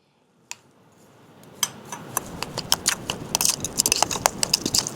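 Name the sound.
mixing salt, baking soda and baking powder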